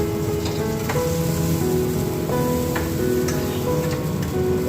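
Spices for Bengali tempering sizzle and crackle steadily in hot oil, a continuous frying hiss with a few sharp ticks and pops and no talking.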